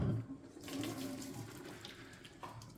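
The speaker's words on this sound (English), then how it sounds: "give it a quick rinse, cool it off a bit" Boiled shrimp from spicy cooking water get a quick rinse under a kitchen tap, a steady close splashing water stream running for a few seconds with no talk.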